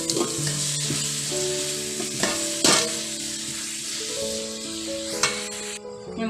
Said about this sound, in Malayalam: ഇതിന് ഉള്ളിയുടെ കൂടെ തന്നെ പച്ചമുളക് ഇട്ട് കൊടുക്കണം കേട്ടോ